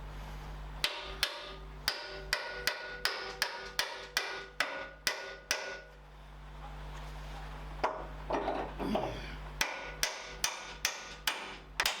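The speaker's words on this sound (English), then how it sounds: "We need the hammer" Sharp hammer taps on paint-covered metal parts while fitting rear springs to an S80 strike in a quick, steady series, pause briefly amid some clatter, then resume with more evenly spaced blows, close and fairly loud.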